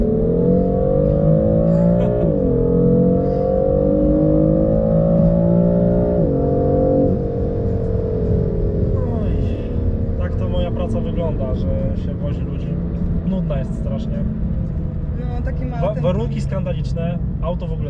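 A new BMW M3 taxi pulls away hard from a red light, its engine droning loudly and climbing in pitch through two or three gear shifts. Passengers talk and laugh over it inside the cabin.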